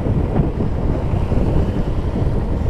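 Strong wind buffets the microphone on a sailboat at sea off Sardinia, a loud continuous low roar with faint water wash beneath.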